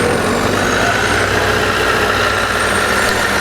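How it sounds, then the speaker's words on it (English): A steady, loud Honda CBR1000RR Repsol sport motorcycle engine idles close by, a constant rumbling drone with no talking. "Fire it off and let you listen to it."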